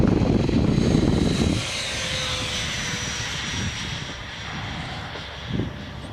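FreeWing A6 Intruder RC model jet passing overhead above a soft field, its whining engine roar loud at first, then easing to a steady, more distant drone.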